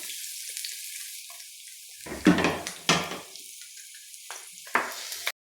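Chopped ginger and garlic hitting hot coconut oil in a pan while cooking a prawn roast, a steady low sizzle broken by several louder clattering bursts of stirring and pan contact, with no talk.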